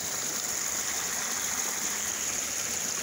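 A small creek flows at a beaver dam in a marsh, a steady, close rushing wash of water that holds evenly throughout with no voices.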